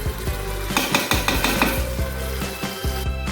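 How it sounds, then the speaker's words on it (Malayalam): Onions sauté in a pan for chicken momos, crackling loudly in oil while a spatula scrapes and taps the pan in quick, uneven strokes. "സവാള വഴറ്റിക്കൊണ്ടിരിക്കണ്ടോ"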